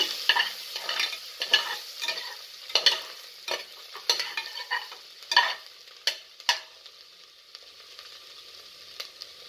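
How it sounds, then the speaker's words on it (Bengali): Ginger is stirred and fried in a cooker while making paneer butter pulao. A spoon scrapes in repeated, uneven strokes over a light background sizzle, fairly close and with no talking. "তারপরে দিচ্ছি আদাটাকে একটু নাড়াচাড়া করে দেব।"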